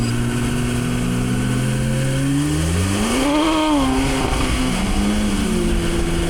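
A Porsche 918 engine revs and accelerates, its pitch climbing through rising harmonics, peaking, then dropping and building again, loud and close with no talk.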